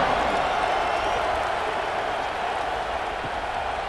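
Crowd applauding and cheering ahead of the kickoff in a Clemson versus South Carolina college football video game simulation: a steady, dense wash of clapping and crowd noise at moderate volume, easing slightly toward the end.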